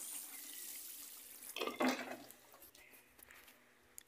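Watering freshly pricked-out lemongrass seedlings in a garden: a short burst of pouring, splashing water near the middle, quiet trickles before and after, no talking.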